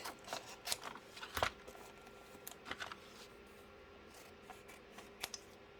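Scissors snip through a piece of craft paper, a handful of sharp crisp cuts and rustles at irregular intervals, close but fairly quiet, with soft handling noise between.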